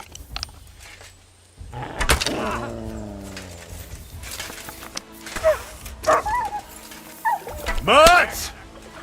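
A dog in Kingdom Come: Deliverance II gives several sharp yelps and whimpering barks in short bursts, with a voice speaking around them.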